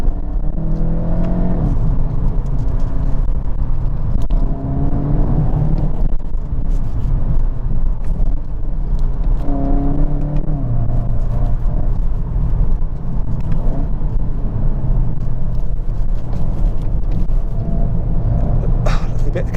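Hyundai i30 N hatchback lapping a track, heard from inside with a steady loud engine drone whose pitch climbs and falls through gear changes, with wind buffeting throughout.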